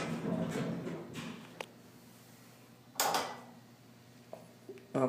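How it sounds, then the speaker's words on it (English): Elevator doors slide shut with a soft rumble, then land with a sharp thud, followed by a few quieter knocks and clicks nearby. "Let's close the doors."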